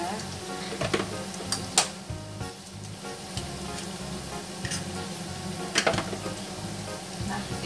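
Steady sizzling of tofu and tempeh frying, with intermittent scraping and clinking as a utensil stirs through the pan, close and moderately loud.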